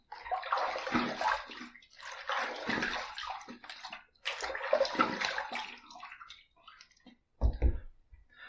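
Water runs from a tap in three long gushing spells as a razor and face are rinsed after shaving, followed by a few brief splashes and a sharp knock near the end.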